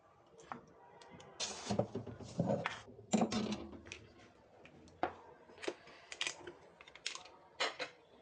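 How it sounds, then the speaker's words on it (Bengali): Knife chopping chicken into small pieces on a board, a run of sharp, uneven taps and thuds at close range, bunched in quick bursts with short pauses, no talk. "ছোট টুকরা করে নিচ্ছি ব্লেন্ড করতে যাতে সমস্যা না হয়"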